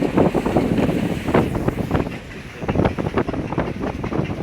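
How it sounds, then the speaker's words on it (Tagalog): Strong wind gusts buffet the microphone out at sea on a fishing boat in big waves, a loud rumbling roar that surges and eases throughout. "Ngayon mga idol, ganun pa rin mahangin."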